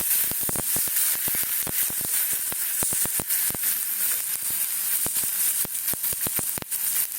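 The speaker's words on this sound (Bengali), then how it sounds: "দেখো পেঁয়াজ আর টমেটো ভাজা হয়ে গেছে আমি একটু তেজপাতা দিলাম" Onion and tomato with a bay leaf sizzle in hot oil in a home kitchen pan, a constant close hiss broken by frequent sharp pops and spits throughout, with no talking.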